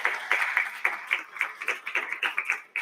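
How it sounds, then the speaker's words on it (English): Light, brisk applause from a small group of panel colleagues at a higher-education round table: a quick run of crisp, closely spaced claps, moderately loud and fairly near, with no talk over it. "while the colleagues will probably applaud"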